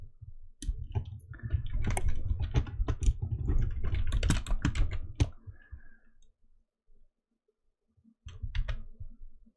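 Rapid keystrokes on a computer keyboard during text entry, a steady burst of clicking for about five seconds, then a pause and a shorter flurry of typing near the end, close and clear with no voices.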